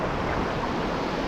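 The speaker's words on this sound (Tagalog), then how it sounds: "Kaya natin dito may malalaking alon." Large waves breaking along the edge of a reef, a steady dense wash of surf with wind noise close to the microphone, no voices.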